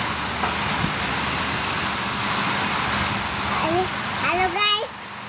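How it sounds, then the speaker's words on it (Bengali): First storm rain of Baishakh pouring steadily outside a home, a dense continuous hiss of rainfall with gusty wind, and a voice chirping briefly near the end. "বৈশাখের আজকে প্রথম ঝড় বৃষ্টি হচ্ছে।"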